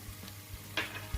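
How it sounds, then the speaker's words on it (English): Tomato fries in a pan for jollof spaghetti, a soft, steady sizzle with light stirring scrapes and a few brief louder bumps over a short stretch. "our tomato is now well fried"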